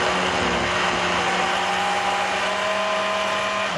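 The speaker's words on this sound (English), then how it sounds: "So you can start blending" A countertop blender runs steadily while blending a vegetarian recipe in a home kitchen, its loud motor whir droning close and even for the whole stretch, with no talk over it.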